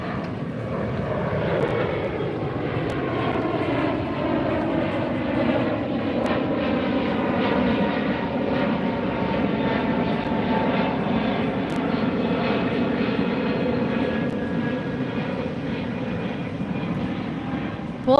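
A Delta jet airliner passes overhead near LAX by the beach at sunset, a loud, steady engine roar that holds for many seconds, with faint voices beneath.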